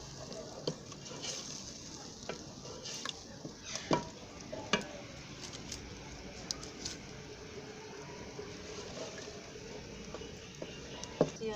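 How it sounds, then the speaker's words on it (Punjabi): Saag greens roasting in a pan in a Punjabi village kitchen, giving a steady low sizzle and crackle. Scattered clicks and scrapes of stirring come and go throughout, with no talk. "ਹੁਣ ਅਸੀਂ ਇਹਨੂੰ ਚੰਗੀ ਤਰ੍ਹਾਂ ਭੁੰਨਣਾ।"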